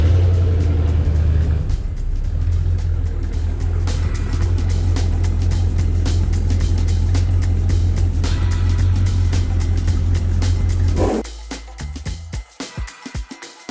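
An inboard marine boat motor runs steadily while pulling in antifreeze during winterization, a loud, low, continuous rumble for about eleven seconds that then cuts off, leaving uneven sputters and knocks as it winds down.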